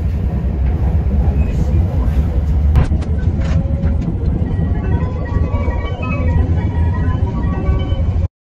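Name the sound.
Japanese bullet train (Shinkansen) departing Sendai station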